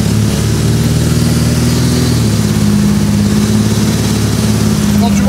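A Batmobile replica car's engine hums steadily at idle on the street with a low, constant drone, close and fairly loud, without much change in pitch.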